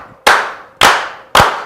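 Three separate sharp hand claps spaced about half a second apart, each loud and close with a quick decay, forming a deliberate slow clap from an audience.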